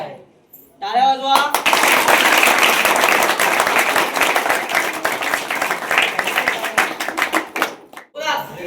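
An audience of school students bursts into applause after a brief voice, clapping loudly and briskly for several seconds, thinning toward the end before a short pause and a fresh burst.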